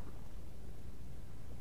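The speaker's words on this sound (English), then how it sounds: "So there might be some thunder." Low rumbling thunder from a storm outside in The Witcher 2, a steady broadband roll with no distinct cracks, heard alone without talk.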